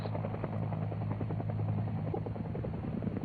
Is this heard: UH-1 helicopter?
yes